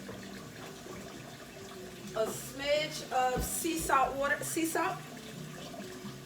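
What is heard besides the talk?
tap water running into a kitchen sink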